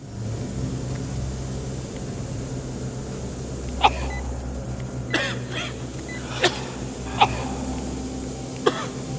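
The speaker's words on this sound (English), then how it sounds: "Cough, cough." A character chokes on gas in the video game Saw II: Flesh and Blood, giving five short, sharp coughs spread unevenly over several seconds, fairly faint above a steady low background hum, with no speech.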